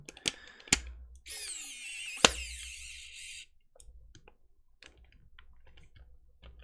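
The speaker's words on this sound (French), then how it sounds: "Mais ce petit tournevis électrique, je regrette pas mon achat." A small electric screwdriver whirs for about two seconds with a high motor whine while restoring a Virtual Boy controller, framed by sharp clicks and handling knocks, then quieter tapping and fumbling nearby.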